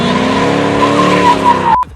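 Drifting car at a drift event, engine howling loud and close with a sustained tire skid for nearly two seconds before cutting off abruptly.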